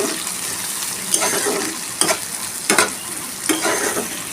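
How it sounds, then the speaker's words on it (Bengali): Chopped onions frying in a pan with garlic already browned, a close sizzle punctuated by several scraping stirs of a spoon against the metal, with no talking. "আবারও আমি ভালো করে ভাজতে থাকবো"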